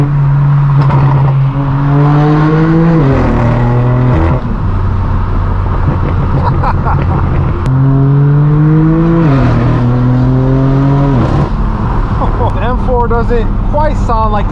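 Straight-piped BMW M4 F82 exhaust under way, loud and raw, with repeated rising revs through the gears and brief dips between shifts, constant and close throughout.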